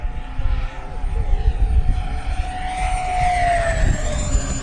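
An FMS Futura RC model jet flies inverted overhead, its turbine-like whine steady and loud, a high tone sliding downward as it passes, with broadband rushing noise throughout and no talk.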